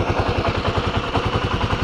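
Close, steady motorcycle engine chugging at low revs in first gear as the rider walks the bike along, a continuous rumbling throb with no voices.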